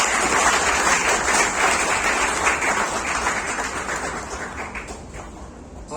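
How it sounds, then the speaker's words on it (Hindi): An audience applauds to welcome directors at a medal winners' felicitation ceremony for the 36th National Games, with sustained dense clapping that slowly thins out. "मैं चाहूंगा कि एक बार सभी लोग तालियों से उनका स्वागत करें।"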